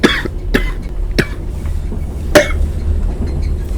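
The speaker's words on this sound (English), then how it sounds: "Wait, I got a cough." A person coughs in a few sharp, separate bursts spaced over a few seconds, close to the microphone, over a low steady background hum.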